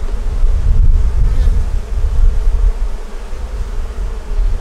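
Honey bees swarm around the hive entrance in a loud, low, continuous buzzing drone, close to the microphone and swelling and fading slightly, with some wind rumble mixed in.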